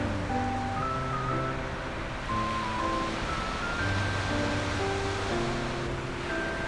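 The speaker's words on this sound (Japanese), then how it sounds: "本当に波の音がいいね。" Ocean waves wash steadily onto the shore at Atami, a continuous close, loud surf roar with faint tonal sounds drifting over it.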